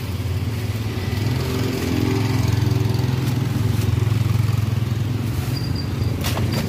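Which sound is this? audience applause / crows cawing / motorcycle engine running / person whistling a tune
motorcycle engine running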